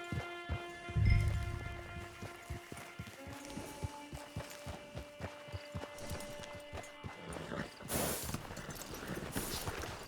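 Horse hooves clip-clop at a steady walking pace in Red Dead Online, with a clear, evenly spaced rhythm of hoofbeats over a soft musical drone. A heavy thump comes early on, and a brief noisy burst appears near the end.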